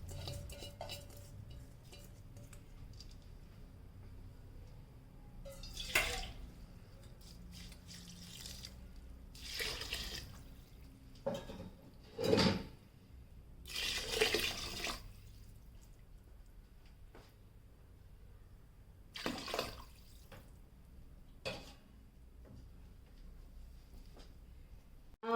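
Washed rice and water go into a pot for vegetable biryani. Close metallic clinks, scrapes and stirring clatter come in scattered bursts over a faint background, with soft splashes of pouring water.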